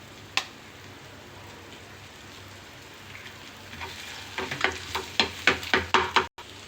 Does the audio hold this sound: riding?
no